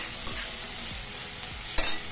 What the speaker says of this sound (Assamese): এতিয়া মই গোটেইখিনি ভালদৰে লৰাই দিছো ইয়াত দিছে দুটামান কেঁচা জলকীয়া ইয়াৰ লগতে গোটেইখিনি ভাজি